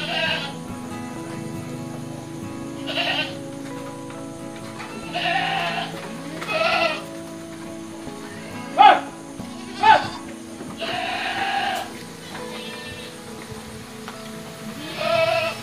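Mother goats bleat repeatedly at a breeding goat farm pen in Pidie, Aceh, with several separate calls rising out of steady background noise while someone talks throughout.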